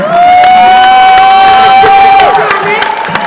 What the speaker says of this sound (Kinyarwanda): Reka mufashe twakire Prof Mumezi n'amashyi menshi cyane.